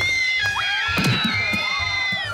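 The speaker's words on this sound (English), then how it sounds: "it's the spectators screaming now" Spectators at a boot throwing competition in Finland shriek and shout in high-pitched bursts, several voices overlapping over a steady background hum.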